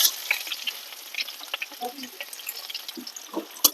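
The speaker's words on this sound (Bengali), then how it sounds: "পেঁয়াজটা ভাজা হয়ে গেছে" A steady crackling sizzle of onions frying in oil with cinnamon and cardamom, with occasional stirring clinks and scrapes, fairly quiet and close.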